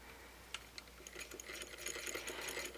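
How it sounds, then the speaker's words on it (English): An antique 1914 Sew Handy toy sewing machine chain stitching, a quiet, rapid mechanical clatter that starts with a few ticks and settles into a fast, steady patter at close range. "And it makes a quiet little chain stitch."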